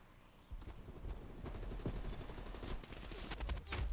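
Video game gunfire and artillery: dense, loud bursts of rapid shots and booming impacts that overlap almost continuously for four seconds, with no talk.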